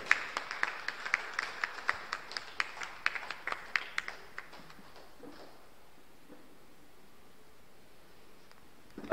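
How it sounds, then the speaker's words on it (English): An academic audience claps for a professor joining the high table, steady scattered applause for about four seconds that then fades into quiet room tone. "A round of applause for him."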